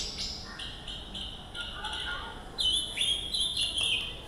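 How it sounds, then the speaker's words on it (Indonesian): Bright, whistled chirps of a pancawarna bird, high and tonal, come in repeated short bursts that grow louder in the second half, over a faint hum, during a storytelling session for orphaned children. "Ini burung pancawarna juga suaranya."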